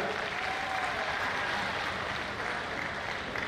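An audience at a university youth festival prize ceremony applauds continuously and loudly to welcome the vice-chancellor, a dense even wash of clapping with no voices standing out.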